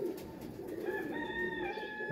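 Pakistani pigeons coo close by in soft, repeated throaty calls, with a few brighter tonal notes from another bird layered over a quiet background.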